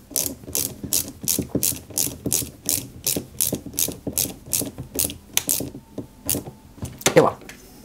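Flat-head screw being driven into a 1/8 scale Nissan Skyline GT-R model car part, a steady series of rapid ratcheting clicks from the screwdriver, close and regular, with a brief voice near the end.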